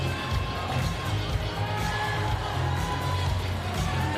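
Indoor crowd at a Paralympic goalball match, a steady wash of cheering and murmuring spectators with children's voices mixed in, continuous and moderately loud with no standout bursts.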